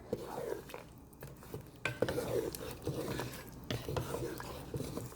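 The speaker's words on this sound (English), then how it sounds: "Give it a very gentle stir." Achar gosht, a pickle-spiced meat curry, is gently stirred in a pot on the stovetop, giving soft scraping and occasional utensil clinks against the pot over a quiet background, with faint sizzling.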